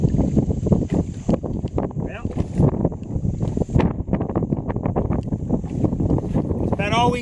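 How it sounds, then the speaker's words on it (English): Strong wind buffets the microphone on a fishing boat out on Indian Lake, a loud, continuous roaring gust with rumbling and flapping, while someone talks throughout. "big wind gust coming up right here."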